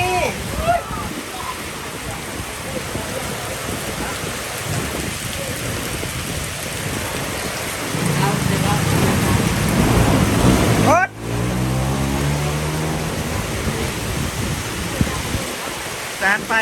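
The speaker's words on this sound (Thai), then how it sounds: "เห็นไหม ฝนตก" Heavy rain pouring down at night during a 2 a.m. car wash, a dense, steady patter that swells louder midway, with a deep thunder rumble underneath and occasional voices.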